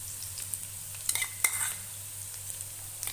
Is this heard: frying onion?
yes